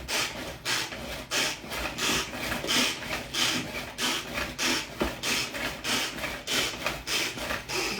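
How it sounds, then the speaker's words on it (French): Bacon being minced in an electric food chopper for carrot flans, a repeated series of short whirring, grinding bursts at a steady rhythm, close and fairly loud, with no talking. "on va hacher à nouveau, cette fois-ci, le bacon"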